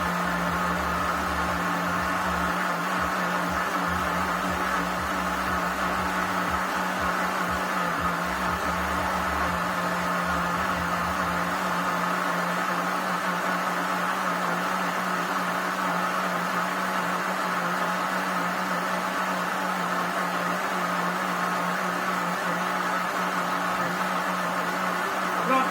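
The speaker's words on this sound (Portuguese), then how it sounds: "minha massa está aqui batendo, tem que bater bem, deixa bater, o liquidificador vai esquentar um pouquinho" A blender beats cake batter at home, a steady whirring motor hum that continues alone with no talk, its low rumble dropping away partway through.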